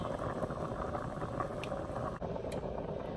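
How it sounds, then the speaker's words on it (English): Potatoes boiling in a pot on the stove, a steady, dense bubbling hiss that continues without a break for a few seconds. "The potatoes are boiling quite nicely."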